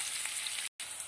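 Two medium onions sautéing in a pan for a chicken and potato curry, a soft, even sizzle close by with a brief silent gap midway.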